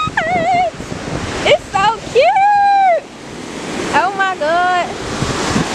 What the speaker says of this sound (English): we at the beach and I'm gonna put my feet in the water